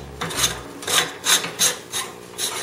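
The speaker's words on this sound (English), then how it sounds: "When you thread this on, it kind of grinds." Aluminum parts of an ALOCS travel coffee maker grate together as they are threaded, giving a series of rough, rasping scrapes in an uneven rhythm, close and fairly loud with no talk.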